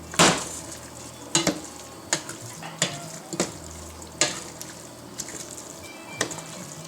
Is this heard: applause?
no